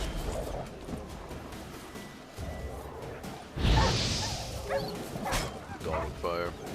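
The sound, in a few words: stray dogs barking in the video game Witcher 3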